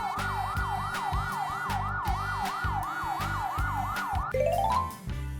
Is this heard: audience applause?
no